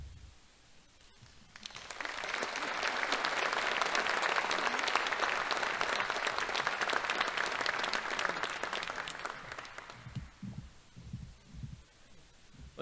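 A long burst of audience applause at the 2024 Academic Top 25 awards ceremony swells after a quiet start, holds steady for several seconds, then fades out, leaving low murmurs and shuffling.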